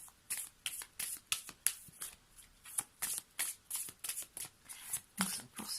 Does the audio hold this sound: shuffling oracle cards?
yes